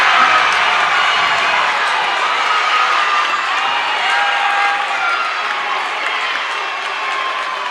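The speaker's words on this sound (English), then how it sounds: "Here's the crowd." A high-school basketball crowd at Oak Ridge War Eagles versus Grand Oaks Grizzlies roars after a breakaway layup. Loud, sustained cheering, applause and whoops fill the gym steadily from start to finish.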